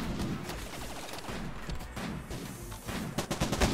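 Gunfire in the Rimworld video game during a raid, rapid crackling bursts of shots that build toward a louder, denser volley at the end.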